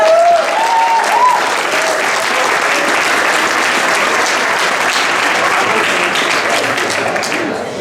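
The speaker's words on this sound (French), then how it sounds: "on peut les applaudir, les jeunes qui sont là" Loud, dense applause from an audience at a 50th anniversary celebration, honouring the young guests. It holds steady and close for nearly eight seconds.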